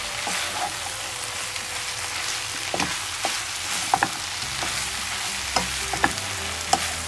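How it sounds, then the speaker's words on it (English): Tuna and mushroom pie filling cooks in a pan with a constant sizzle while a utensil stirs it, giving scattered scrapes and light taps that grow more frequent toward the end, nearby and moderately quiet, no speech. "So while this is cooking, just keep mixing."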